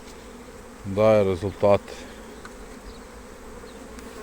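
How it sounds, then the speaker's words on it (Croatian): Honey bees hum steadily inside an open beehive crowded with bees, a low, continuous drone that carries on under a brief spoken phrase. "Naravno tu je sve već puno pčela."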